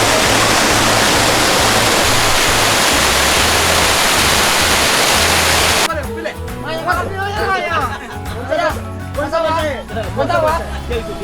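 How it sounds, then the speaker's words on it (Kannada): A strong waterfall at a paid viewpoint in Darjeeling, West Bengal, gives a loud, steady roar for about six seconds, then cuts to quieter footage where people talk over a low background rush. "ಸೊ ಹಿಂದ್ಗಡೆ ನೋಡೋಡಲ್ಲಿ ಸೊ ಸಖತ್ತಾಗಿರೋ ವಾಟರ್ ಫಾಲ್ ಇದೆ"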